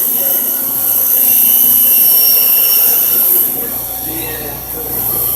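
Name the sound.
bench grinder running, grinding metal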